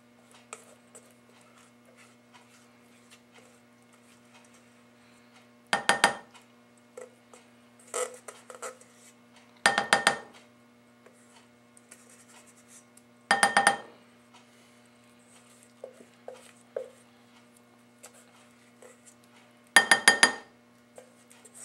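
An icing spatula scraping layered taco dip out of a round casserole dish, heard as a handful of sharp, close metallic clinks and scrapes spaced several seconds apart in a quiet room.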